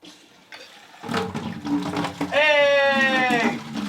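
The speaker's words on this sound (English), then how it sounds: "And now water should come out." Water gushes from a newly installed shower arm in a house under renovation, a steady hiss starting about a second in and running loud to the end, with an excited voice briefly calling out over the spray.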